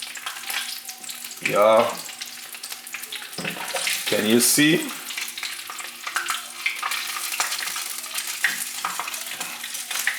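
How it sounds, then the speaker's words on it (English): Fish frying in hot oil for Nigerian red stew, with steady sizzling and spitting throughout, while someone talks close by in short bursts. "when you are frying your fish."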